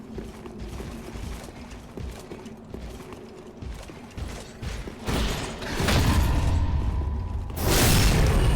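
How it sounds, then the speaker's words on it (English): An elevator in Dark Souls 3 creaks and clunks with mechanical rattling, then rises into a louder, steady rumble toward the end, with no one talking. "never trust elevators"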